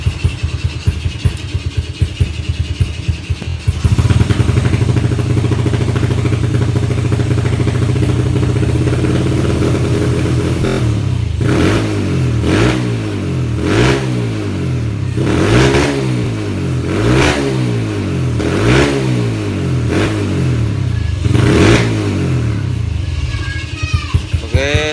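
A motorcycle with a stock exhaust idles with a slightly choppy, broken rhythm, then revs repeatedly in loud, rising bursts, each blip climbing and falling back, close up with no talk.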